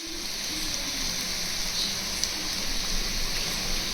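Potatoes fry in oil in a pan with a faint, steady sizzle and hiss, quiet and continuous throughout with no talk.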